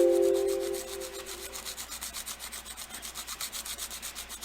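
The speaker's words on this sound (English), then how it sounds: "I would just sand, and I wouldn't go through every grit." Sandpaper rubbed over a polymer clay dragon claw at fine grit, roughly 1500 to 2400, in a steady rounded motion, giving close, soft rhythmic scratching strokes that repeat about every quarter second, with no voices.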